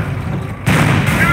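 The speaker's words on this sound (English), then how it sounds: "That shot from the Panzer scored a critical hit and has immobilized your tank." Panzer tank cannon shot striking a Sherman in Company of Heroes, heard as a sudden heavy boom with rumbling impact that stays loud and sustained after the hit, over a low battle backdrop.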